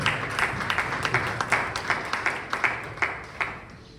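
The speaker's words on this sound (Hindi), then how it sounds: "तालियों के साथ हम स्वागत करें।" A church congregation claps in a steady rhythmic beat to welcome pastors at a Sunday service, the crisp claps repeating about twice a second from close by.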